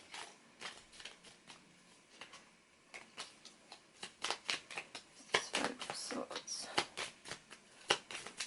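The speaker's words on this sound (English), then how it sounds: "Sorry, I'm shuffling off camera." Tarot cards shuffled off to the side during a card reading, a quiet run of crisp riffling snaps and flutters that grows busier and louder toward the end, with faint talk underneath.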